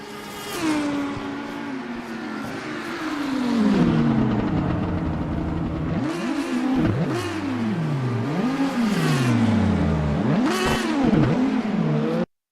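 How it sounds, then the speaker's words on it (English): Onboard the number 92 Lamborghini Super Trofeo race car at Long Beach, the engine revs hard and continuously, pitch climbing and dropping through repeated gear changes and braking for corners, loud and close throughout before cutting off abruptly at the end. "Now on board with James Bowders, driving the number 92 Lamborghini"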